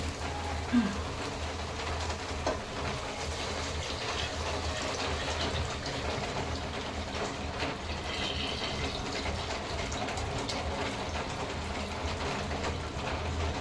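Mutton stock poured straight from a pressure cooker into a pot for a mutton curry, a steady splashing stream of liquid that runs evenly throughout without pause.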